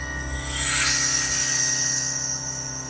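Soldering torch flame on the discharge line of an Electrolux fridge: a steady, close hissing roar that swells in the first second and holds on, with no talk.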